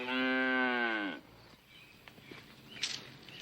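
A cow lets out one long, loud moo up close that fades after about a second, leaving quiet farmyard background with faint rustles.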